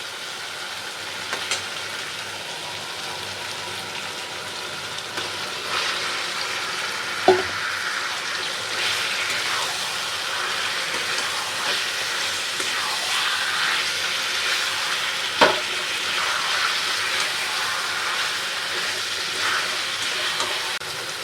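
Chicken meat, seasoned with turmeric and salt, goes into a hot pan and sizzles with a steady, close hiss; two sharp clinks of utensils stand out along the way.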